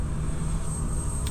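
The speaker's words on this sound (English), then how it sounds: "you can hear an aircraft taxiing to its runway right now" Aircraft engine noise from a plane taxiing at Frankfurt Airport in the Fernbus Coach Simulator game, a steady low drone with a constant high whine, heard from a distance and continuous throughout.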